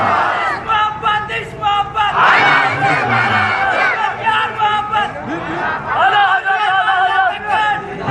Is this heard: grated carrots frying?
no